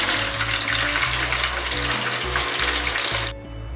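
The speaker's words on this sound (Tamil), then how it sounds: "ஃபிஷ் ஃப்ரை மட்டும் இப்போ செஞ்சிட்ருக்கேன்" Fish fries in a pan with a loud, dense, continuous sizzle and crackle that stops abruptly near the end.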